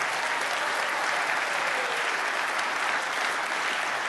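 Audience applause filling a house at a recovery-style talk, dense steady clapping from many hands held at an even level for several seconds, with no voices over it.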